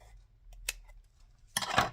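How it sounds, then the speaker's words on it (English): Scissors snipping paper while making a tag ephemera holder: a single small snip, then a brief quiet moment and a louder, slightly longer cutting sound near the end, heard close and alone. "So I'm just going to cut that off."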